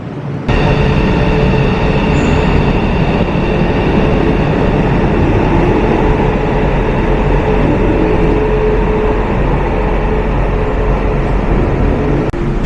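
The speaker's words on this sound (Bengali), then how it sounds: "দরজা বন্ধ, এবার ছাড়বে হচ্ছে ট্রেন।" An Indonesian Whoosh high-speed bullet train pulls away with a steady, loud rolling roar and rumble heard from on board, holding constant throughout with no speech.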